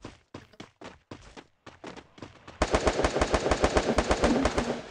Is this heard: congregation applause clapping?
no